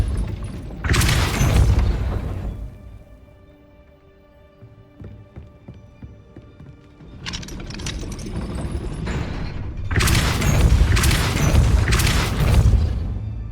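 Depulso spell effects in Hogwarts Legacy, loud whooshing blasts in separate bursts: one early, then a quieter stretch with a faint mechanical hum, then several heavy impacts close together near the end.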